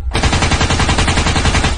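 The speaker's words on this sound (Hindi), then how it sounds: "ये देखकर बाकी सारे ज़ॉम्बीज़ भी गुल्ली बुली सोन पर गोलियां चलाना स्टार्ट कर देते हैं।" Rapid machine-gun fire from a Hindi cartoon of zombies shooting at characters, a loud continuous rattling burst of closely spaced shots lasting about two seconds, with no talk.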